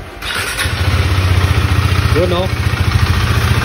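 A Husqvarna Svartpilen 401 motorcycle fires up and settles into a loud, steady, pulsing idle close by, with a brief voice speaking over the engine.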